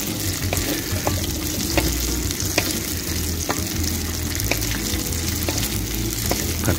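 Egg stir-frying for pad thai makes a constant loud sizzle, punctuated by regular scraping stirs roughly twice a second, close up and with no voices.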